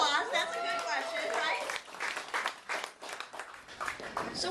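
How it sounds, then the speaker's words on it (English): Audience claps at a Successful Thinkers talk, a burst of hand claps beginning under a speaking voice and continuing as a ragged round of moderately loud applause with some chatter. "Give them a round of applause"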